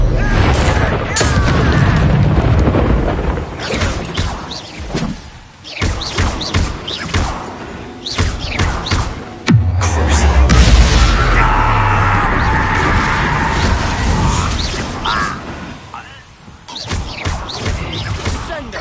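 A Bombarda blast spell from the Hogwarts Legacy game, heard as a loud booming thud with a deep low rumble midway, amid combat effects and shouted spell calls.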